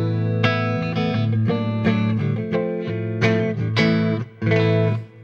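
An electric guitar played through an amplifier on its clean channel strums a series of ringing chords in an even rhythm, loud and close, with no voices.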